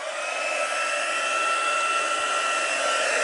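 A heat tool blows hot air over a stamped card to heat emboss it, giving a steady, close, hair-dryer-like whoosh that holds at an even level throughout.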